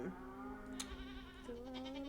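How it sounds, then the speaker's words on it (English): Baby goat bleating in the Stardew Valley farming game, a wavering, nasal cry that carries across the whole stretch with a second rising bleat near the end, set over soft steady background music with no talk. "baby goat"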